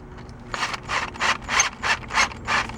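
A cobalt drill bit grinds into a hardened steel bolt in evenly spaced rasping pulses, about seven in a row, close and fairly loud, with no talk.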